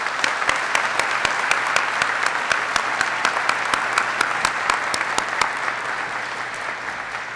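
Continuous applause fills a graduation ceremony for new warrant officers, a dense crowd clapping steadily at a fairly loud level, with individual sharp claps poking through, then easing slightly toward the end.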